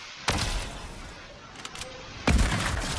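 Two sniper rifle shots in the Fortnite video game, each a sharp loud crack with a lingering tail, spaced about two seconds apart over a low background bed.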